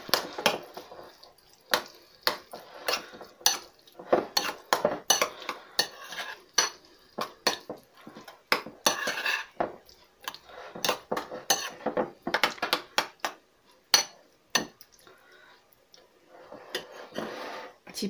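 Grated carrot is stirred with mayonnaise in a bowl, giving close, irregular clinks and scrapes of a utensil against the dish in bursts with short pauses.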